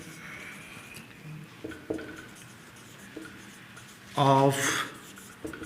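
A pen writes on paper while maths is worked out, soft scratchy strokes in short bursts, one louder scribble near the end, with a voice speaking faintly between them.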